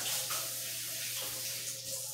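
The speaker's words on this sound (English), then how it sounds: "Gotta wash the goopy stuff off your hands." Running tap water rinsing sticky batter off hands at a kitchen sink, a steady close wash filling the whole stretch with no talk.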